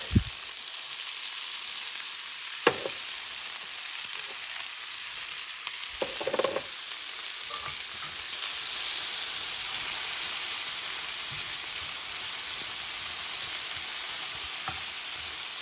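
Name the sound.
onion and carrots sautéing in a pan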